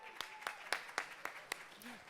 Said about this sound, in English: Can we start clapping?